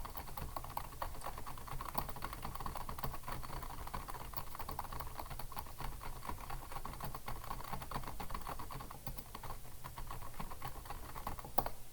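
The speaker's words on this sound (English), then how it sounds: "just use the keyboard to be able to type down some text" Rapid, steady clicking of a computer keyboard as text is typed into a basic text editor on the Haiku operating system, continuing for the whole stretch with no pauses and no voices.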